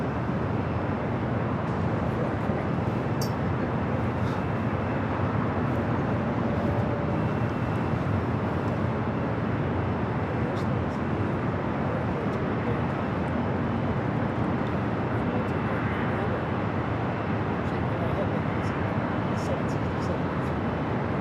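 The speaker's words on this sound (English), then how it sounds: "Aircraft now crossing over the Sepulveda Bridge." An airliner landing at LAX roars overhead as it crosses the Sepulveda Bridge, a broad, sustained jet rumble that stays loud and steady, with a voice talking over it.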